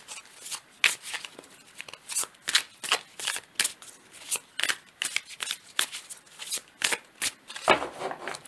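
Oracle cards are shuffled by hand in a quick series of crisp riffling bursts, roughly a dozen in a regular rhythm, close and clear with no talking.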